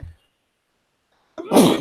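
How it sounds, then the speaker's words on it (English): A single loud, close sneeze bursts out near the end after a brief silence. "had to sneeze"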